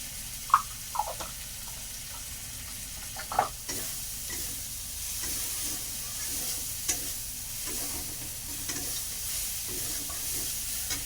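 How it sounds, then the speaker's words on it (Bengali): Steady sizzling as a fish head fries in oil with ginger, garlic and onion, with occasional stirring clinks and scrapes of a utensil, close and moderately quiet throughout. "আমি এখানে আদা রসুন পেঁয়াজ দিয়ে মাছের মাথা করছি"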